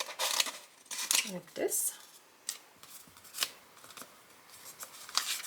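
Snips and crinkly scraping as vinyl sheet is cut and handled, irregular bursts of rustle and clipping, close up, with brief talking.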